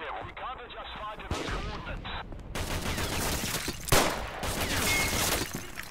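Rapid bursts of gunfire and heavy booming artillery blasts from a World War I video game battle, Day of Infamy, loud and continuous, with shouting voices mixed in.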